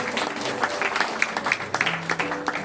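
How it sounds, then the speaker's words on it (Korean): An audience applauds at an awards ceremony, with steady, dense clapping throughout and some crowd murmur underneath. "큰 박수로 다시 한번 축하드립니다."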